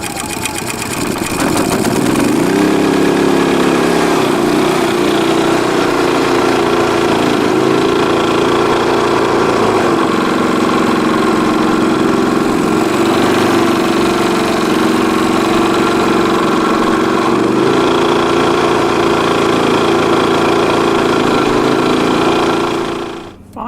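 An Energizer eZV3200P portable generator engine fires up after a brief start and then runs steadily, a loud, close, continuous mid-pitched engine hum with slight knocking vibration, cutting off at the very end.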